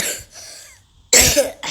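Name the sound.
cough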